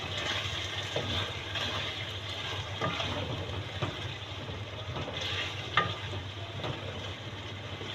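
A steady, dense sizzle of drumstick curry frying in a pan, with faint occasional scrapes, continuous and moderately loud throughout.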